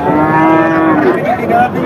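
A cow lets out one loud, close, sustained moo at a busy village cattle market in Jhenaidah, the long call wavering in pitch against background crowd noise.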